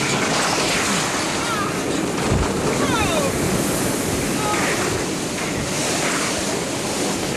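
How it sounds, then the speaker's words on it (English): Typhoon Omar's eyewall coming ashore on Guam in 1992, a loud, steady roar of gusting wind and pounding surf that lasts the whole stretch, with heavy wind buffeting on the microphone. "a close call as Omar's eyewall comes ashore"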